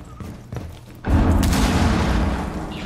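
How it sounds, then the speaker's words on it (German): A grenade goes off in the tactical shooter Rainbow Six Siege: a few soft thumps, then one sudden loud, deep boom about a second in, followed by a long rumbling, crackling decay. "Lol, Granate."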